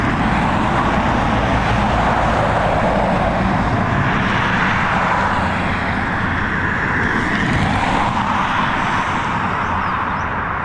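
A fixed-wing airliner arrives at Dublin Airport, its jet engines making a loud, steady broadband roar that swells and holds throughout, with faint road traffic beneath and no talk.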